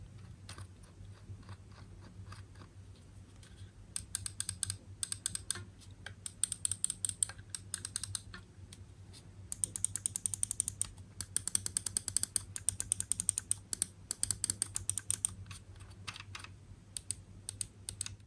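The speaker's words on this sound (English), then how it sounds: "let's do a little bit of the sound test of the scroll wheel and all of the buttons" Glorious Model D wireless gaming mouse scroll wheel ratcheting and button clicks, close and crisp, coming in sharp rapid bursts of small clicks over a faint steady hum, with no voices.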